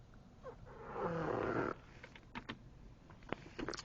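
Power sunshade motor whirring closed under the composite tinted roof of a 2012 Toyota Prius V, a steady hum of about a second and a half followed by a few soft clicks and taps inside the cabin.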